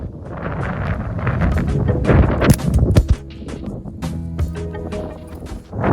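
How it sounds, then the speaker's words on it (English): Gusts of wind on a northern Michigan golf course in fall buffet the microphone in loud, uneven rumbling bursts that rise and fall. "Have I mentioned it was windy?"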